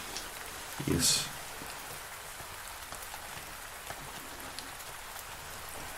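Steady rain pours down throughout, a dense even hiss, broken near the start by a short louder burst and a brief spoken reply.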